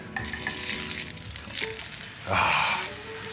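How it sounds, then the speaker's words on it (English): Bread fries in a pan of oil, giving a steady sizzle with scraping and a short louder burst as the slice is flipped. "Right, my bread is ready for a flip"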